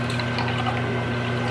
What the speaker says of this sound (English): Pour about that much juice.